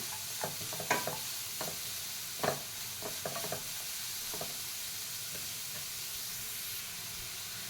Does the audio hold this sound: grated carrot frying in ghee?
yes